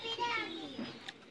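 Sialkoti black-mouthed pigeons coo softly in a short close burst, a low throaty warble sliding downward, with a voice and other chatter mixed in.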